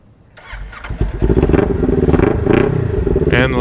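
A Kawasaki Ninja 400 motorcycle starts up and pulls away on a nighttime ride, its engine rising into a loud, close, steady drone with rhythmic pulsing as it gets under way.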